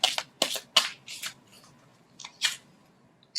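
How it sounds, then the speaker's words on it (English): Tarot cards are shuffled and pulled during a reading, giving several sharp riffling bursts and soft card slaps in an uneven rhythm, close and fairly quiet, with no voices. "So let's pull one more card."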